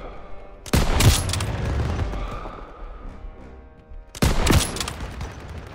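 Gunfire from the World War II shooter Call of Duty: WWII, in a church sniper stronghold battle: two loud bursts of shots a few seconds apart, with a steady din of combat between them.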